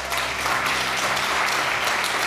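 An audience at a scientific award ceremony applauds the recipients in a steady, sustained burst of clapping that stays fairly loud throughout, with no talk over it.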